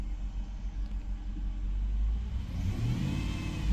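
2005 Jeep Grand Cherokee engine running with a steady mid-pitched rumble, swelling slightly louder toward the end, close and continuous with no one speaking.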